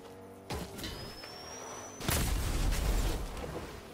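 Video game explosions boom out in two bursts, a sharp blast around half a second in and a heavier, longer rumbling blast from about two seconds on, over steady game background noise.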